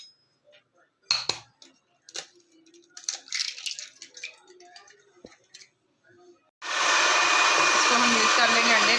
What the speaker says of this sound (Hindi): इसको हम मिक्स कर लेंगे अंडे को।